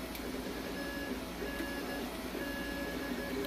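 An Ender 5 Plus 3D printer running fast under a Creality Sonic Pad gives off a dense, continuous whir and rattle of rapid motor movement, with intermittent high electronic tones repeating over the clatter.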